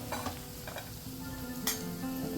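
Spice tempering in hot oil for a Kolhapuri white curry, a steady sizzle with stirring clinks and a brief sharp scrape, close and moderately quiet, with no talk.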